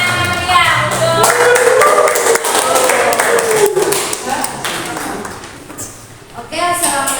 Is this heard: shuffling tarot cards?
no